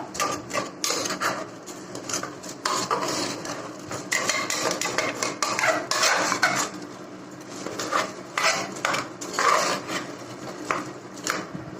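Curry being stirred in a pan over a low flame, with a steady stream of close scraping and clattering from the spoon against the pan, busy and fairly loud, with no talk.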